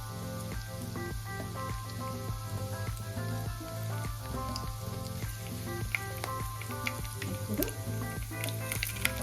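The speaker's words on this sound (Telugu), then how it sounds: "ఆవాలు వేగుతున్నప్పుడే జీలకర్ర వేసేసుకున్నాం తర్వాత రెండు ఎండుమిర్చి" Mustard seeds, cumin and two dry red chillies crackle and sizzle in hot oil for a raw tomato chutney tempering, a quiet, steady spitting with scattered small pops and no talk.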